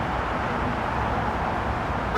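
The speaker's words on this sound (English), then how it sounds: "urging drivers to honk in support of workers' rights. And many are doing just that" Drivers honking car horns in support of a May Day workers' rights protest on a road beneath an overpass, heard as a dense steady wash of traffic and horns with a sharper, louder horn toot at the very end.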